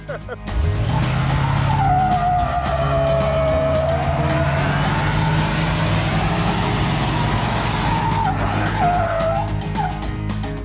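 An old American V8 pickup truck engine revs loudly and continuously with a rough, throaty rumble, close by, holding high revs for several seconds.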